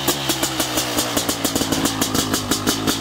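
A dirt bike's billet 500cc two-stroke engine revs loudly up close, with a raspy, pulsing exhaust note rising and falling in quick throttle blips.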